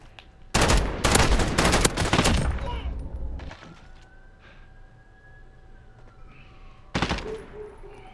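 An FAL rifle in Modern Warfare fires a loud, rapid burst of shots lasting about two seconds, followed by quieter game ambience with a rising whine, then another short, sharp volley near the end.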